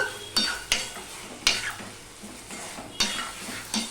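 Okra being stir-cooked with poppy seeds in a pan: a soft ongoing sizzle punctuated by several sharp scrapes and knocks of a spatula against the metal at irregular intervals.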